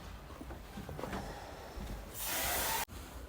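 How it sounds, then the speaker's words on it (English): A room freshener aerosol is sprayed in a single loud hiss lasting under a second, inside a houseboat room in Srinagar. It cuts off abruptly, after quieter background shuffling. "is busy spraying the room freshener"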